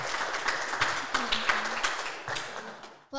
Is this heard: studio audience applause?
yes